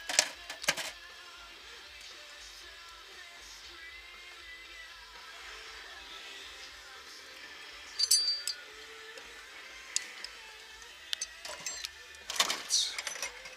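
Small firearm parts are dumped into a parts cleaner, making scattered metallic clinks and clatters with a few louder bursts of jangling between quieter stretches, close by and with no voices.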